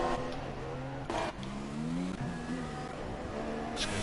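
F1 2016 race car lapping the Shanghai circuit in China on soft tyres, its engine droning and shifting pitch steadily through a tricky first corner, close and continuous.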